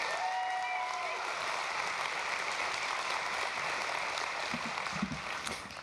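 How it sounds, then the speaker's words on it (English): Sustained applause from the audience at an online high school graduation ceremony, a dense, even wash of clapping throughout with brief faint voices near the end. "So let's give him a round of applause."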